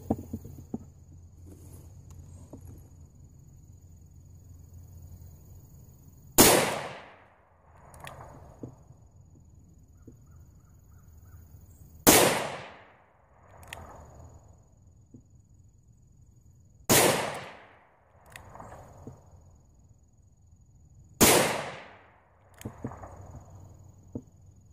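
A .357 Magnum revolver loaded with 8 grains of shotgun powder and 130-grain hollow point bullets fires four sharp shots outdoors, spaced several seconds apart, each with a trailing echo.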